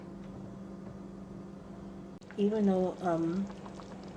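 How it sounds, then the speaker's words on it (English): Spaghetti sauce boils in a pot on the stove with a low, steady bubbling hiss and hum, joined midway by a person speaking. "the sauce is boiling"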